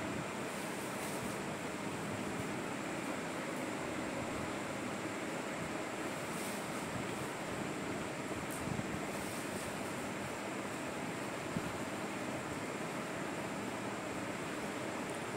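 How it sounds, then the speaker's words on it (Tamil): Moringa leaf poori deep-fries in hot oil, a continuous broad, even sizzling hiss that runs unbroken throughout, fairly quiet and close with no voices. "இதே மாதிரி மீதமுள்ள எல்லா பூரியும் ஒன்றொன்னா சேர்த்து எண்ணெயில் ஃப்ரை பண்ணிக்கலாம்"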